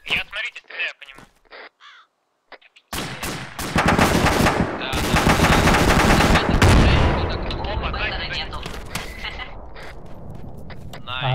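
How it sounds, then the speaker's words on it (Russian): Heavy gunfire in ArmA 2 ACE, opening with a few scattered shots, then a sustained loud burst of rapid automatic fire and continuing shots, close and dense with some talk mixed in. "Я смотрите, стреляю по нему"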